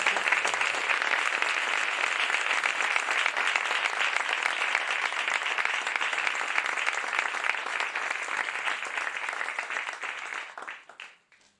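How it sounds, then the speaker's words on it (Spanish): Sustained, vigorous applause from an audience at a Spanish novel presentation, El anillo del general by Benjamín Prado; the dense clapping stays full and even for about ten seconds before fading out quickly at the end. "Un aplauso para ella, por favor."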